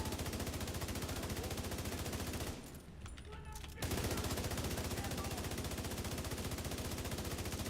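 Sustained automatic gunfire from The Division 2 on PC, a loud rapid stream of shots emptying a whole magazine, breaking off briefly for about a second before the burst resumes and runs steadily to the end.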